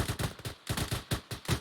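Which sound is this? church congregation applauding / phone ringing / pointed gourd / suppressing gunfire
suppressing gunfire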